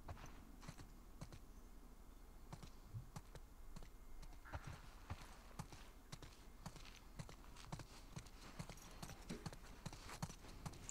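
Horse hooves clip-clop in a steady walking rhythm in the video game The Last of Us 2, close and fairly quiet over a soft ambient background.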